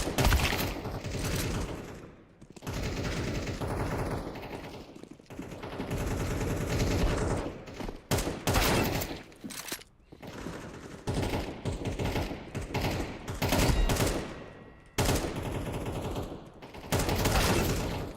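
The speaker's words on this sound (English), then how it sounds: "let's work on some tap firing" Bursts of gunfire from a shooting video game crack out in rapid short taps and longer volleys, loud and close, separated by brief gaps, with no speech.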